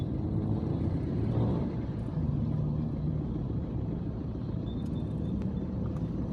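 Dense road traffic in front of Quiapo Church in Manila: a continuous loud rumble of engines and tyres, with occasional faint horn-like tones rising over the steady drone.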